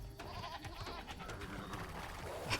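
Sheep bleating in the real-time strategy game Age of Empires 2, a few short nasal animal calls over busy game sounds and background noise, fairly faint throughout.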